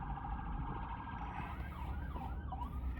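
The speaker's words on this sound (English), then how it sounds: "if you hear the ambulance in the background" An ambulance siren wails, sweeping up and down in pitch over a steady low rumble of traffic, fairly distant and continuous throughout.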